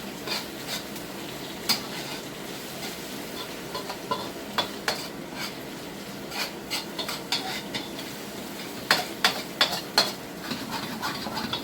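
Onion tops sizzle and are stirred in a pan while cooking Peruvian lomo saltado, with a steady low fry under scattered sharp scrapes and clicks of the utensil against the pan.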